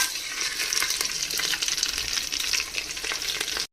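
Whole spices (cardamom, peppercorns, cinnamon, bay leaf and shahi jeera) sizzle and crackle in hot oil for mutton biryani, a dense, close frying hiss with stirring that cuts off abruptly at the end.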